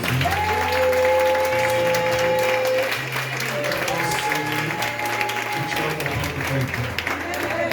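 A church congregation claps together during a worship service, steady dense applause with sustained tones of an organ or keyboard and voices mixed in, close and loud.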